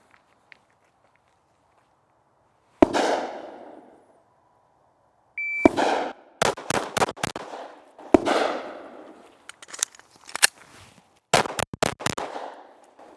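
Pistol shots during an FBI qualification drill fired from a ready position: a lone shot, then a tight string of sharp cracks, a pause for a reload, and another quick burst of several shots, with faint echoes between.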